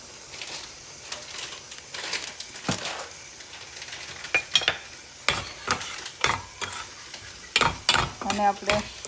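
Tomatoes and tomato paste sizzle in a pan while a spoon stirs and scrapes in repeated close strokes over a steady frying hiss.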